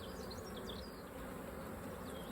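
Honey bees buzz at an open hive during a colony split, a faint, dense and continuous hum with individual bees whining past close by.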